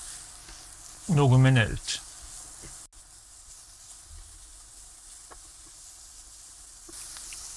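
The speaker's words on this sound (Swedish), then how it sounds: "sen rör vi runt och ska det få fräsa på" Zucchini and chicken with a spice mix sizzle in a frying pan, a soft continuous hiss under and between speech, with a brief louder burst of sound near the start.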